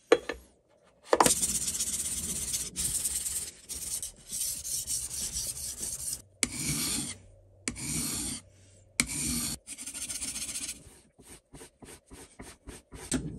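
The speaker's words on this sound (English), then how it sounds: "So, do a wee bit of sharpening on this one." Bursts of rasping, scraping strokes as a Record No 7 hand plane blade is sharpened, the irregular rubs separated by short pauses, close and fairly loud with no talk.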